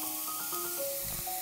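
Sliced onions sizzling in a pan on the stove, a steady bright hiss of frying oil with faint tonal hum underneath, close and even in level.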